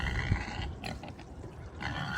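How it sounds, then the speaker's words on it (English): Pigs on a farm grunt and snuffle close by in a low, rough, continuous chorus with scattered louder snorts, no voices. "Pigs."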